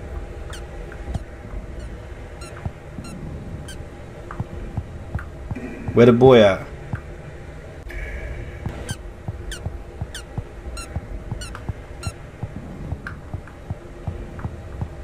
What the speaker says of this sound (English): I heard some noises. I heard some squeaking.